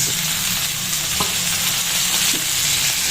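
Chicken and tomatoes fry in a pan with a loud, constant sizzle, up close, while a utensil taps and stirs now and then.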